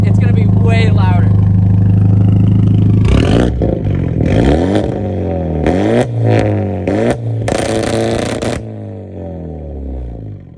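A Hyundai Genesis Coupe 2.0t with a two-step tune revs its exhaust several times in loud, rising and falling bursts, close by, following a steady idle, with a voice speaking over the start.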